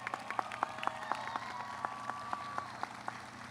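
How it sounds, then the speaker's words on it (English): Applause from a graduation audience for students, distinct individual claps in a steady sparse rhythm, fairly faint and distant. "Please, let's give these students a round of applause."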